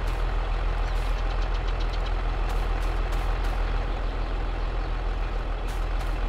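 A tractor engine in Farming Simulator 22 drones steadily and loudly as the tractor drives forward beside a thresher, with a constant low rumble and faint clattering throughout, and no talk.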